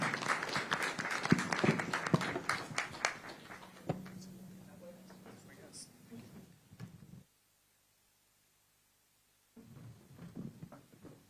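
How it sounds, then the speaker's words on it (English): Applause from a small audience at a SuperMotocross pre-race press conference in St. Louis: a few seconds of clapping that thins and fades, then a pause and a brief return of light clapping and shuffling. "Round of applause."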